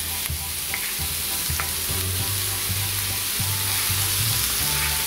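Zucchini and tomato sizzle steadily in a frying pan, a continuous close hiss with occasional light stirring scrapes and soft clinks of the utensil.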